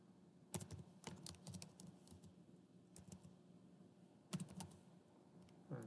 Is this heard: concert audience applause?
no